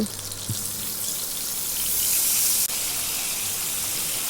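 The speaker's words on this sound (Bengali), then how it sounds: "এরপর আমি দিয়ে দিচ্ছি সামান্য একটু জল" Water splashed into hot oil with fried cumin seeds sets off a loud, steady hissing sizzle that swells over a few seconds, close and continuous, with no talking.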